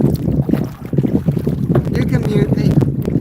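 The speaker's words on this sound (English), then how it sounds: "It sometimes gets a little windy out here." Gusting wind buffets the microphone aboard a small fishing boat on the ocean off Chincoteague, Virginia, with sloshing water and hull knocks throughout and a voice talking under the roar.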